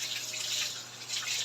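Tap water runs steadily into a sink while hands are washed, a close, continuous hiss and splash with no talking.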